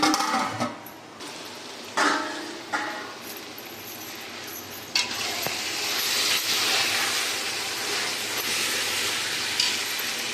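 Steam hissing steadily from a covered pot while Kashmiri aloo kushka cooks, a soft continuous hiss broken by occasional clicks and metallic knocks of the lid, faint and close with no talking.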